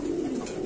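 Female pigeon cooing close by, a soft, low, throaty coo sustained through the short moment.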